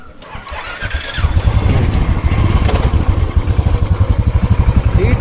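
A Royal Enfield Bullet motorcycle starts up close by, catching after about a second and settling into a loud, rhythmic thumping idle that carries on steadily.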